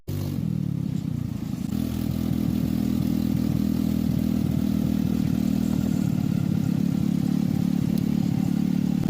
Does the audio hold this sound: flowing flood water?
no